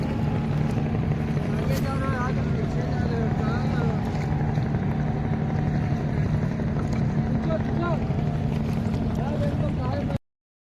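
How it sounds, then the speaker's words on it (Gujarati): A boat engine drones steadily and loudly as the boat crosses the river at Triveni ghat in Prayagraj, with wind buffeting the microphone. Voices are faintly audible under the engine until it cuts off abruptly near the end. "આ બોટ છે."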